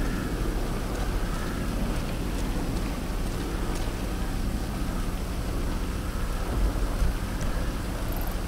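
A thunderstorm in GTA V Online: heavy, steady rain pours continuously at a loud level, with faint distant thunder rumbling underneath and no voices.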